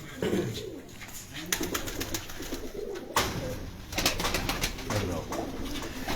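Several pigeons coo in a loft in Sialkot, a steady low cooing under someone talking nearby, with occasional sharper rustles.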